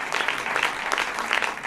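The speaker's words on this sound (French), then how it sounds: "je voudrais quand même qu'on applaudisse Gérald" Audience applause at a film lesson in Nîmes, a dense, steady patter of many hands clapping close by, sustained without a break through the whole stretch and with no voices over it.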